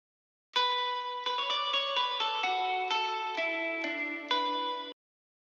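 A sustained, synth-like guitar melody plays a few slow notes drenched in heavy reverb as the drop melody of a dance track, each tone ringing into the next before stopping abruptly.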